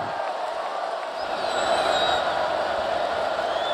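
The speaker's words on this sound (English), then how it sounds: "You hear this crowd start to get into the game just a bit." Stadium crowd at a college football game between California and Notre Dame, a broad, steady roar of cheering that rises slightly midway, distant and continuous beneath the broadcast.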